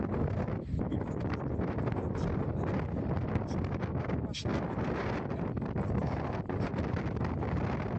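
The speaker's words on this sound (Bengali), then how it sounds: "প্রচুর ঠান্ডা বাতাস বইতেছে" A strong cold wind blows by the sea near Chattogram, roaring steadily and buffeting the microphone in a loud, continuous rush with brief gusty swells, and no speech is heard.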